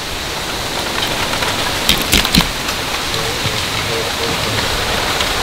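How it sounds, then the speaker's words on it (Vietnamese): Rain falls steadily and fairly loudly outdoors as food is prepared, a dense continuous hiss with a brief louder splatter midway and faint voices beneath. "ông trời lại đang mưa rồi"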